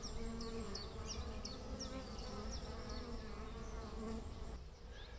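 Steady insect buzzing with several bees droning close by, a continuous hum with brief high whines as individuals pass near, no voices.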